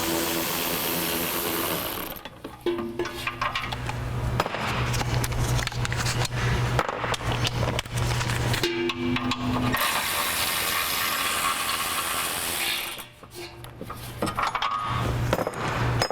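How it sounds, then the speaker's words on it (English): Bolts for the auxiliary brackets are removed from a Jeep Wrangler JK rear bumper with a loud, close power ratchet that whirs in long bursts, separated by short pauses and metallic clicks. "now remove the bolts for the auxiliary brackets"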